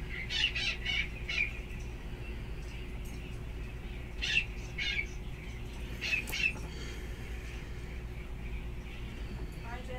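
Several birds call outdoors in short, scattered bursts of chirps against a steady low background hum, faint to moderate and at some distance, with no voices heard.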